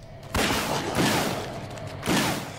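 Bursts of gunfire from the video game Alone in the Dark: three loud, dense volleys of shots, each lasting about half a second, separated by short gaps of quieter rumble.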